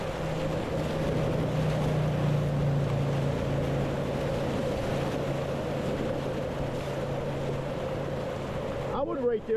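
Whitewater kayaking on the Lawson section of Clear Creek, Colorado, through a class 3+ rapid in a Pyranha ReactR: a steady, loud rush of churning water fills the whole stretch, with a brief splash near the end.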